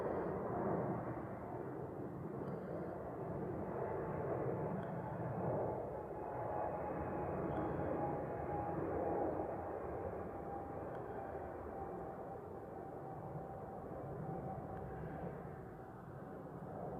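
A heavy jet departing Honolulu airport, a distant continuous roar that rumbles steadily, then slowly fades away.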